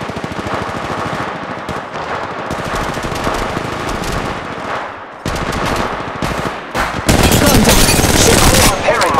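Rapid automatic gunfire in Apex Legends Mobile, loud sustained bursts of shots that grow denser and louder toward the end, with brief voice lines over the firing.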